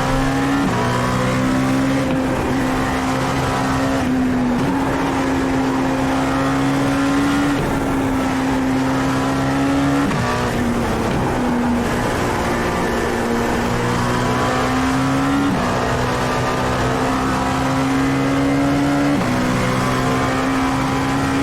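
Dallara P217 prototype race car engine lapping Suzuka in iRacing, a loud continuous drone that climbs through gears with brief dips on upshifts and braking, steady throughout.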